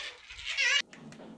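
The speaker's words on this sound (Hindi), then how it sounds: "बहुत ही ज़बरदस्त है बकरा" A castrated male goat gives one loud, close bleat lasting under a second, wavering and nasal, then stops abruptly into quiet background noise.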